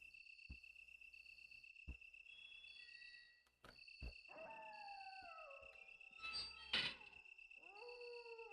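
A dog howls in long, rising and falling wails over a steady chorus of crickets in Resident Evil: Director's Cut, faint and distant with a few sharp knocks, no talking.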